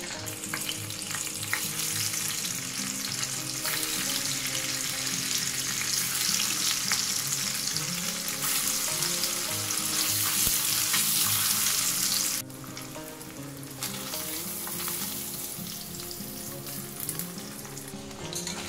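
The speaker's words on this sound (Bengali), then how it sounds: "এবার আমি পনিরগুলো একটু একটু করে ভেজে নেব।" Paneer pieces frying in white oil with a little ghee, a dense continuous sizzle with crackling and occasional stirring, steady and close, dropping somewhat in intensity partway through.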